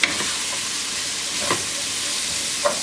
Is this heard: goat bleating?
no